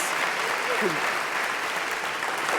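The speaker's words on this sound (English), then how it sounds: "Let's hear one last round of applause for our award winners." A crowd at an awards ceremony applauds its winners with thick, continuous clapping, a brief voice rising through it partway before the ovation carries on steadily.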